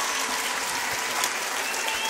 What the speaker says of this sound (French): Ça mérite évidemment quelques applaudissements.